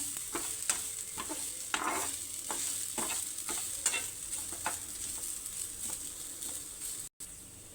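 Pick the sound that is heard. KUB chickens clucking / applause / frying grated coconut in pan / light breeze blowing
frying grated coconut in pan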